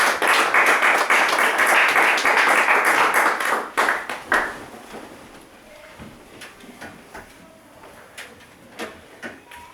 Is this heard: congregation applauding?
yes